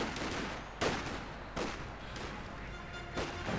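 Gunfire from a Company of Heroes 2 battle: several sharp loud bursts spaced over a continuous layer of rattling small-arms fire and distant rumbling explosions, steady and dense.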